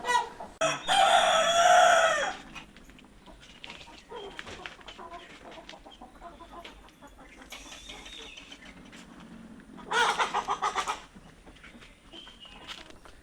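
Roosters crow loudly on a Konkan poultry farm, two long bursts near the start and again later, with clucking chickens and low murmuring in between.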